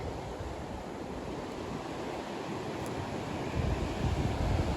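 A flooded river rushing over the weir at a mill, heard as a broad, continuous roar with buffeting wind noise on the microphone, growing slightly louder toward the end.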